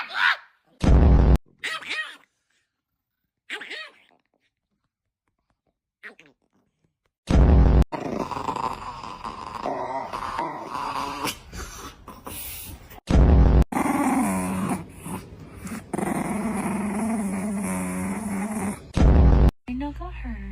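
A small, angry Chihuahua growls and grunts in close bursts between stretches of quiet, with someone talking over and around the dog's rumbling.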